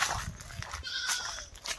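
A goat bleats a few times in short, wavering cries over a busy outdoor background, fairly close and moderately loud.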